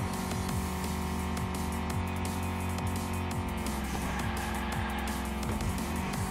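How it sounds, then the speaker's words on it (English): Toy-style racing cars drifting around a track in Hot Wheels Unleashed, on a Monster Truck City Rumble course: loud, continuous engine whine with repeated tire squeals and swooping pitch sweeps as the cars slide through turns. "Some good drifting right here at the end."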